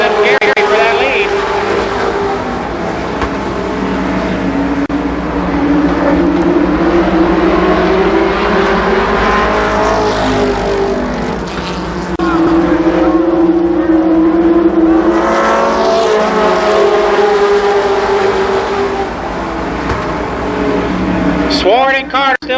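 Race cars roaring around Columbus Motor Speedway in 1993, loud engine drones rising and falling as cars pass, under continuous excited commentary from an announcer calling the battle for the lead.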